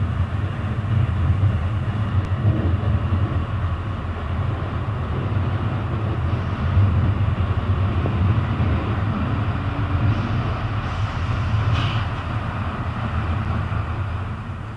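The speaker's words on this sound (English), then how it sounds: "the train approaches Duffield." A train on the Derby to Buxton line heads toward Duffield with a steady low rumble and rolling drone that holds level throughout, with faint higher squeals now and then.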